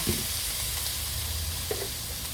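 Food stir-frying in a hot pan after oyster sauce and fish sauce go in, a soft continuous sizzle and hiss with a few scraping stirs, steady and close with no talking.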